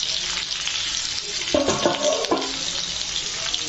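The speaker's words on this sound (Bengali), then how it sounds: "আমি আবার একবার ঢাকিয়ে দিচ্ছি যাতে কুঁদলিগুলো তাড়াতাড়ি সেদ্ধ হয়ে ভেজে যায়" Ivy gourd (kundru) frying in a covered pan, a steady soft sizzle with a short louder clatter near the middle as the lid is handled, no voices.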